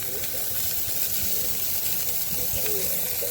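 Hamburger patties for onion burgers sizzle on a griddle while being flattened, giving a steady, dense hiss throughout with a faint low rumble beneath.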